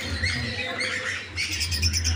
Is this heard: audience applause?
no